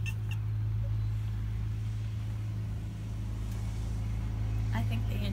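A Polaris utility vehicle drives past at a campground, a steady low engine drone holding throughout at moderate distance, with faint background voices over it.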